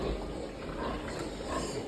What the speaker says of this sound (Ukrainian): Бачите синю свиню? Свиня порісна 56 днів.